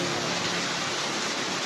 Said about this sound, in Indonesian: Meski guyuran hujan es ini berlangsung kurang dari 15 menit, namun material es membuat warga terkejut.